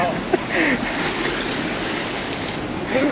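Steady rushing of a fast-flowing glacial stream close by in the Himalaya on the Annapurna Circuit, a broad continuous roar with faint voices and a brief whistle-like call over it.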